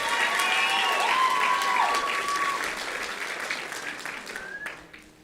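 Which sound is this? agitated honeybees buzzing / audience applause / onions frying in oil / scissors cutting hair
audience applause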